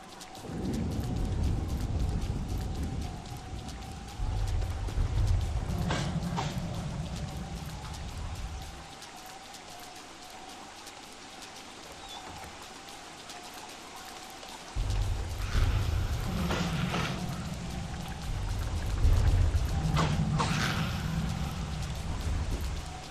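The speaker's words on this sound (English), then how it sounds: "Oh, it's raining again." In the video game Don't Starve, steady rain pours down while rolls of thunder rumble in bursts, swelling and fading across the scene with a faint tonal hum underneath and no voices.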